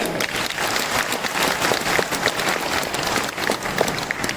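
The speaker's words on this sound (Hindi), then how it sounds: "आप तालियां तो बजाओ यार।" An audience at a speech honoring a university's founding vice-chancellor breaks into steady, dense applause that fills the room evenly from start to finish with no talking.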